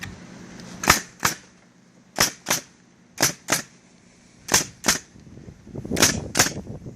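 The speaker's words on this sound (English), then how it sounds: "you can tell by the sound of his nail gun now, he's nailing down into the joist" A pneumatic nail gun drives nails through framing for 14-foot 2x6 walls down into floor joists, firing in sharp close pairs of shots with short pauses between them, several doubles in a row.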